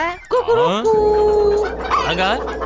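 A cartoon character's voice imitates a rooster crowing in a series of rising and falling warbled calls, loud and close, lasting a few seconds.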